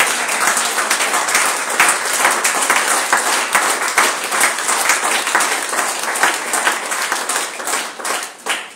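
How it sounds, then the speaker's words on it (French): A church congregation applauding together at a worship service, dense sustained clapping filling the room for several seconds before tapering slightly at the end. "Acclame pour toi"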